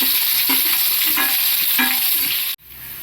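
Sliced onions and green chillies frying in hot oil in a kadai, a loud continuous sizzle broken by a few spatula stirs, cutting off abruptly near the end.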